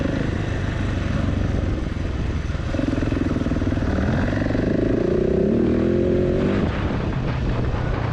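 Husqvarna 701 and KTM 690 single-cylinder motorcycles riding off-road over small jumps, a steady loud engine drone that rises into revving bursts partway through, with rough clatter throughout and no talk.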